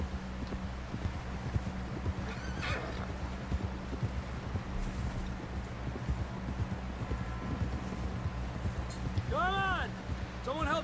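Horse hooves clip-clop steadily in a rhythmic gait in the video game Red Dead Redemption 2, moderately close, under a low continuous drone, with voices talking over them near the end.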